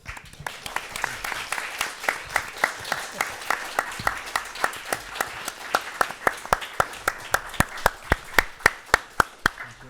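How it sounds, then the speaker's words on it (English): Steady, rhythmic clapping from a seated audience at a film festival industry masterclass honours the panel participants, sharp even beats continuing throughout with no talk over it. "I would just like an applaud for our panel participants."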